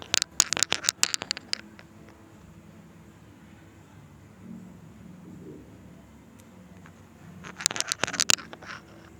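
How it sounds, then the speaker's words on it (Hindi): Cumin seeds frying in hot oil, a close crackling sizzle in two bursts of sharp pops at the start and end with a quieter low simmer between, no voices. "1 टीस्पून ज़ीरा इसमें मैं ऐड करूँगी। इसे थोड़ा सा फ्राई करेंगे हम ऑयल में।"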